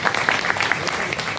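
A crowd claps enthusiastically in steady applause welcoming a guest at an employees' union meeting, close and lively, with a few voices faintly mixed in.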